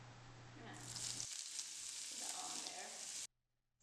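Onions, ginger and garlic hit hot vegetable oil in a pan, bursting into a loud, bright sizzle that crackles steadily for about two seconds before cutting off abruptly.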